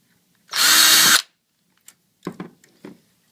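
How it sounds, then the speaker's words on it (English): A power drill whirs loudly for under a second, then stops; a few faint knocks and clicks of handling follow. "pre-drill your hole with 2 screws"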